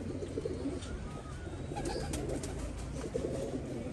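Ali and Battery breed pigeons coo steadily at close range in a loft in Faisalabad, soft repeated calls overlapping over a constant low background rumble, with no talk.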